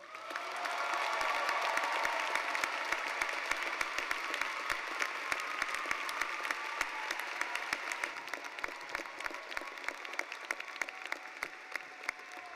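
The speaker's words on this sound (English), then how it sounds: "Please join me in a huge applause to welcome your senior class speaker, Layla El Samra." A large crowd applauds steadily at a university commencement ceremony, a dense wash of clapping that holds for several seconds and slowly thins toward the end.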